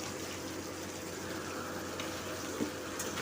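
A vegetable curry of white gourd and broiler chicken is stirred in a pot after hot water is added: a soft, steady bubbling and watery sizzle with faint scraping, quiet and continuous throughout.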